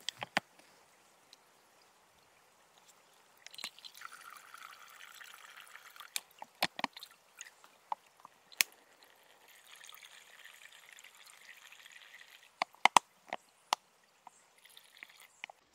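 Water filtered through a Sawyer Squeeze from a 1.5 liter Smartwater bottle into a hydration bladder: a faint, soft trickle and hiss comes in stretches, broken by scattered plastic clicks and crinkles up close.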